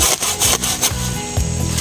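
Rhythmic rasping strokes of a hand saw cutting through avocado wood, several back-and-forth passes close by.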